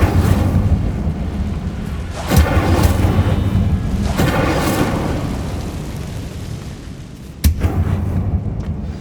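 Incendio fire spell cast in the video game Hogwarts Legacy: loud, continuous roaring blasts with booming bursts around two and four seconds and a sharp crack near seven and a half seconds, with no talk.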